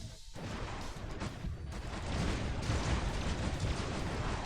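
Continuous robot weapon fire in the mech combat game War Robots, a dense, steady roar of overlapping blasts that swells louder midway and holds without a break.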